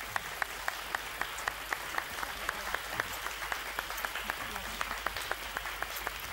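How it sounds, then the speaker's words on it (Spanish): Studio audience applause on a Spanish television quiz show, rhythmic unison clapping with sharp regular beats over a crowd wash, moderately loud and steady throughout. "Felicidades, y este es nuestro aplauso."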